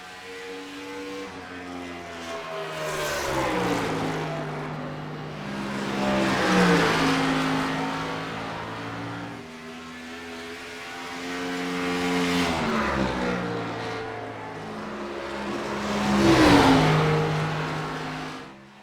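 A NASCAR Gen 4 Cup car engine in iRacing revs up and down in repeated loud, rising and falling sweeps, a rich harmonic V8 roar swelling roughly every five seconds.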